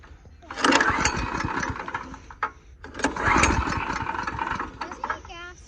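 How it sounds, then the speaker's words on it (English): A go-kart's small gasoline engine is pull-started twice, each pull bringing a loud, rough sputtering roar up close that fades without catching steadily, with a brief pause between attempts. "a pull here, see if it starts."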